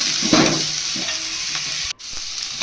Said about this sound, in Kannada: ಈರುಳ್ಳಿ ಮೆಣಸಿನ್ಕಾಯಿ ಎಲ್ಲ ಚೆನ್ನಾಗಿ ಫ್ರೈ ಆಗಬೇಕು